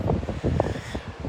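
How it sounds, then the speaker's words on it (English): Strong wind gusts buffet the microphone on Morecambe beach, a short burst of blustery rumble and rustle. "I know it's really windy"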